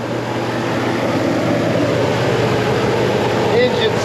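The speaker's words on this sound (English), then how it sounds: "Engine sounds beautiful." A 1978 Lincoln Mark V engine idles steadily with a low, even rumble that holds at constant loudness from start to finish, with no speech over it.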